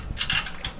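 A ratchet wrench works a downpipe bolt on a 2017 Subaru WRX, producing a few quick, close metallic clicking bursts in under a second.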